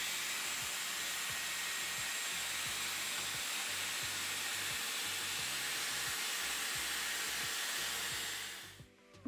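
A Dyson Airwrap hair styler blows air steadily over long hair, a loud, even whooshing hiss that runs without a break and cuts off at the very end.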